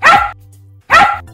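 A dog gives two sharp, loud barks about a second apart, each followed by a short, lower trailing tone.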